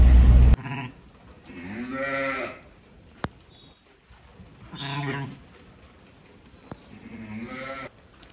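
Several sheep bleat loudly in turn, long wavering calls separated by short pauses, close by in a quiet indoor space, with a ewe being brought in.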